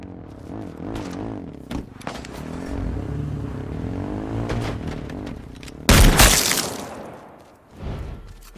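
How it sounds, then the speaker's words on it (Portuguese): In H1Z1 Battle Royale on PS4, a single loud gunshot cracks out sharply and then decays over a droning vehicle engine rumble with warbling pitch, with scrapes and thuds around it and no voices. "Um que deu um tiro, não sei de onde, mas deu um tiro."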